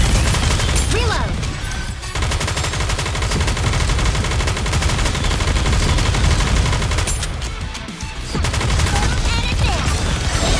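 Dense, continuous gunfire from a battle in Goddess of Victory NIKKE, loud overlapping shots and bursts with a brief lull near the end before firing resumes.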